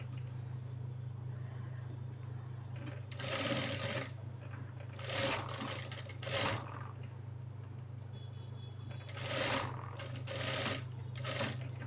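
A sewing machine stitches a child's lehenga blouse in several short whirring bursts, each lasting about a second, separated by pauses, over a steady low hum.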